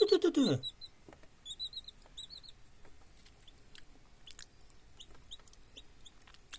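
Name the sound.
newly hatched chicks chirping from an incubator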